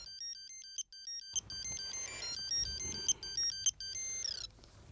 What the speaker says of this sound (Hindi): एक मिनट, फोन बज रहा है